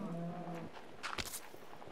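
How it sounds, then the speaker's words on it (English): A cow moos in the Minecraft video game, one drawn-out low tonal moo followed by a few short clicky game sounds, close and clear with no talk. "Okay, cow. You're getting on my nerves now. Get out of the way."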